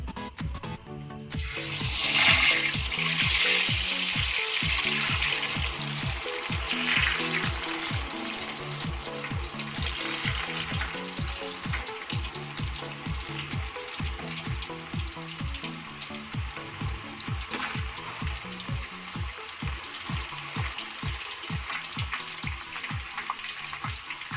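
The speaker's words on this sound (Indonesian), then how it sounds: "Ini minyaknya sudah panas, jadi sekarang kita masukkan ubi rambatnya, ataupun kita goreng ubi rambatnya." Sweet potato slices fry in hot oil for sweet potato chips, giving a steady, fairly loud bubbling sizzle with a dense crackle that holds throughout, with no speech.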